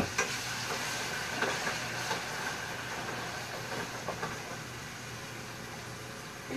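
Onion frying in a pan, a steady broadband sizzle with faint crackles and stirring scrapes running throughout, fairly close and even in level.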